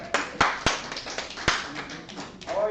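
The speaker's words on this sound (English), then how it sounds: "Everyone give yourselves a round of applause" Small group clapping at the start of a Sabbath gathering, with a few sharp separate claps standing out over a light scattered patter that fades, then voices murmur near the end.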